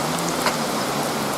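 A rare dry-season rain shower comes down on a hillside yard of hard clay soil. It makes a steady, even patter of drops with no voices over it.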